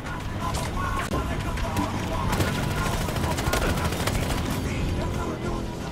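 Dense, rapid gunfire in the Battlefield Hardline game, aimed at a car, sounding as loud overlapping bursts and machine-gun rattles that carry on continuously, with voices talking over the shooting.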